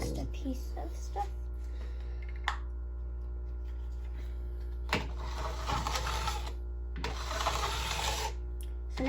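A handheld edge tuning tool scrapes along steel ski edges in repeated gritty strokes, broken by short pauses over a steady low hum, with people talking through parts of it.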